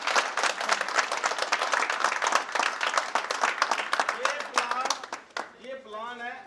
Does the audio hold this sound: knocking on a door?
no